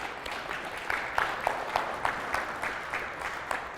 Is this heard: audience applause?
yes